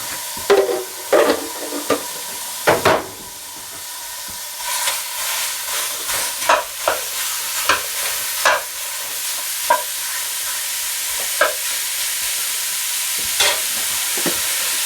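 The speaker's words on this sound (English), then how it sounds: "We're going to heat a large pot over medium heat. We're going to add 2 pounds of ground beef." Two pounds of ground beef frying in a large pot over medium heat, a steady bright sizzle with a string of sharp scraping stirs and spoon knocks, most dense in the first half.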